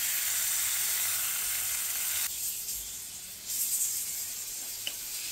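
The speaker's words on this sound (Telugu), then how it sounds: "తక్కువ ఆయిల్తో ఫ్రై చేస్తున్నాను, లైక్ కొంచెం గ్రిల్డ్ ఫీల్ అయితే వస్తుందని." A few pieces shallow-fry in a little oil, giving off a steady close hiss that dips partway through and then swells again, with a single faint tap near the end.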